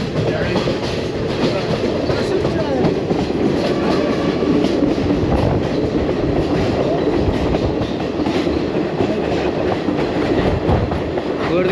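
A passenger train in Sri Lanka rolls steadily along the rails, a loud, continuous rumble with rhythmic clickety-clack of the wheels running throughout and no talking.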